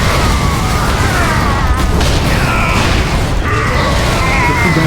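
Loud cannon blasts and heavy booms in a chaotic video game battle, a dense, continuous barrage of explosions with mechanical clatter, sustained over the whole stretch with no clear gaps.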